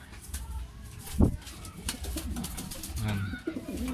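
Pigeons coo softly nearby among muffled rustling and scattered background noise.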